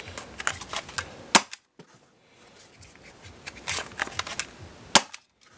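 An Umarex Rekt OpSix CO2-powered Nerf pistol fires foam darts in sharp, snappy pops, several loud cracks mixed with lighter clicks in irregular bursts, close up, separated by brief silences.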